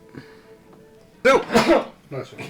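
A single loud, sharp sneeze bursts out close by, with brief talking before and after it.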